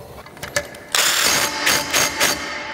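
Close, quick ratcheting clicks as bolts are driven in to fasten a TracRac TracONE truck rack stand, short bursts of mechanical whirring after a few faint taps.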